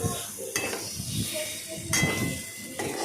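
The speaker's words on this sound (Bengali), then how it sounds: "ভালোভাবে নাড়াচাড়া করে ভাজতে হবে যেন যাতে না পুড়ে যায়।" Chopped kudri (ivy gourd) fries in a pan with a steady close sizzle, broken by scraping stirs of a spatula against the metal.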